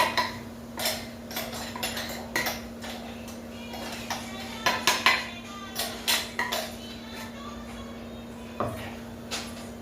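Coarse flaxseed chutney is sautéed in a little oil in a pan, with a spatula scraping and tapping against the metal in irregular clinks over a low background hum.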